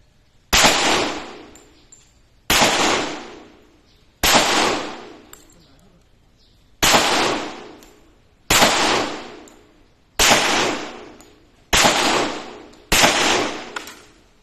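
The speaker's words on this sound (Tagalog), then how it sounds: "Loaded, firing." Eight loud single gunshots fire at roughly even intervals, each a sharp crack with a short ringing decay, close and alone without talk.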